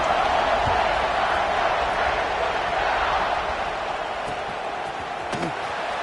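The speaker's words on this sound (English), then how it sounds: "this crowd is buzzing after that last score." Stadium crowd in an American football video game buzzing after a score, a steady dense roar of many voices held throughout at a fairly loud level.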